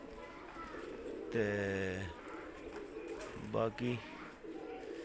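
Pigeons coo on a rooftop in Islamabad, two distinct throaty coos standing out near the listener against a low background, with someone talking at times.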